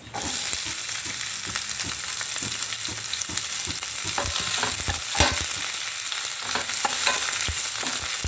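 Chopped onions sizzle and crackle steadily in a hot pan for tomato chutney, with scattered stirring scrapes and spatula taps over a continuous close frying hiss and no talking.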